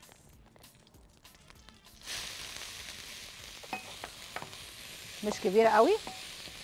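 Chopped onion frying in ghee with salt in a pan: a steady sizzle begins after a quiet start, then a few stirring scrapes near the end, while someone talks briefly at the beginning.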